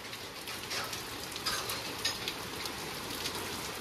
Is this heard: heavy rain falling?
yes